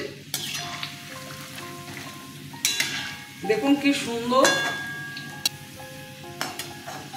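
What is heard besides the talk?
frying pumpkin kofta with duck egg in oil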